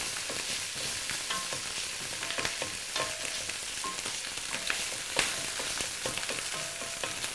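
Tomato paste fries in a pan for stuffed cabbage rolls, giving a steady, close sizzle with scattered crackles and pops and occasional stirring scrapes, with no voices.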